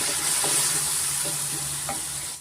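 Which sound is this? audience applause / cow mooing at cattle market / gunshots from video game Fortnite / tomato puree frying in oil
tomato puree frying in oil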